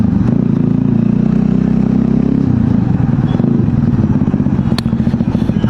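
A motorcycle fitted with an underbelly exhaust is ridden at speed, its engine a loud, close, steady drone with a rough clattering texture that holds throughout.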